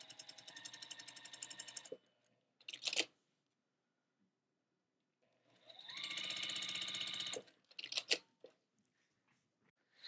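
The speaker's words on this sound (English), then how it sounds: "We're going to stitch just a thread to the right of this line." A sewing machine stitches a quilt block seam in two rapid whirring bursts, each a couple of seconds long, separated by quiet pauses and punctuated by short clicks and rattles of handling nearby.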